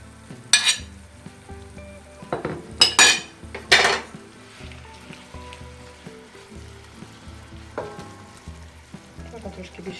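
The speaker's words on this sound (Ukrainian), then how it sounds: "Висипаємо моркву з салерою до цибульки" Carrot and celery, previously frozen, go into a pan of frying onion, giving a soft steady sizzle under sharp clatters of a utensil stirring against the pan, with faint kitchen noise between.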